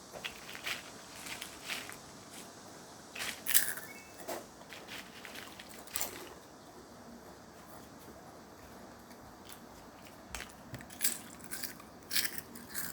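Crunchy Kkokkalcorn corn snacks being eaten up close, crisp bites and crunching in irregular bursts with quieter chewing between, and no speech.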